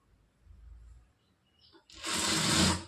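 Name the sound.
sewing machine stitching a blouse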